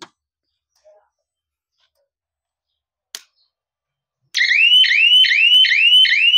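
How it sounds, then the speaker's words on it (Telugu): A solar fencing system's alarm siren sounds alone after a few sparse clicks, a loud repeating rising warble cycling steadily at close range until the end. "ఇది ఇక్కడ అలారం."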